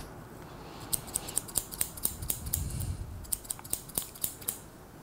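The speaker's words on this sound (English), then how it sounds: "today I try to cut with the scissors of comb technique with the scissors" Scissors snip hair during a men's low-gradated haircut done with the scissors-over-comb technique: a quick, rhythmic run of crisp, close metallic cuts with brief pauses and no talking.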